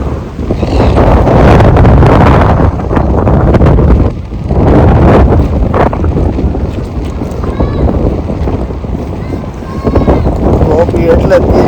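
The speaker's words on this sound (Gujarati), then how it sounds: "પવન એવો આવે છે ને ભાઈ." Strong outdoor wind in London buffets a microphone, producing a loud, blustery rumble that surges and dips in gusts throughout, with a person's voice partly buried beneath it.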